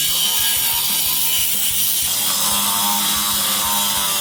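A sawzall cuts through a rusted bolt on a 1965 Mustang, a loud, continuous, rapid reciprocating rasp with a pulsing stroke rhythm close by.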